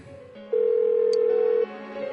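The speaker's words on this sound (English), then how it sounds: "Why won't she pick up the phone?" An unanswered phone in the Persona 4 Golden video game gives one sustained electronic ringing tone lasting about a second over a quiet background hum, with no talking.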